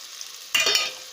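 Tomatoes frying in a pan with chicken masala, mutton masala, garam masala, pepper and chili powders and salt being stirred in: a quiet hiss, then a sudden louder sizzling scrape as the mixture is stirred, fading after a moment.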